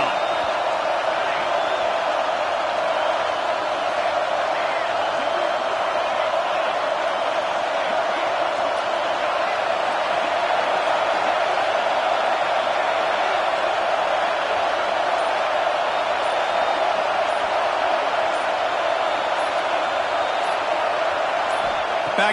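Home crowd at an American football game roars steadily through a third-down defensive stand, a dense, sustained wash of cheering and shouting that stays loud and continuous from start to finish.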